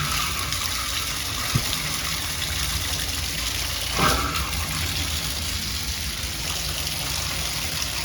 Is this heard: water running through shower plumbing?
yes